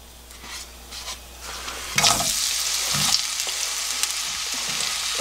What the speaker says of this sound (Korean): 양파가 어느 정도 숨이 죽을 때까지 볶아주거든요